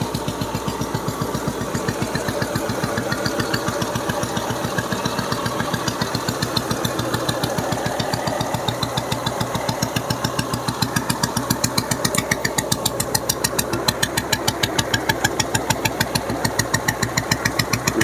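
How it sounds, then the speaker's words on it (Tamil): A 1986 vintage Bullet motorcycle engine idling close by, a steady loud thumping beat with even rhythmic pulses running throughout, no voices. "இன்ஜின் பீட் எல்லாம் நல்லாயிருக்கு"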